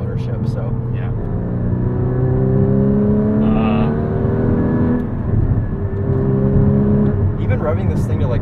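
A 2016 Porsche Cayman GT4 engine revving up toward about 4,500 to 5,000 RPM, a steady loud drone with rising and falling pitch, heard from inside the car.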